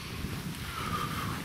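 Wind gusting across an open field in the Eifel hills, a steady rushing buffet against the microphone that rumbles throughout with no voices.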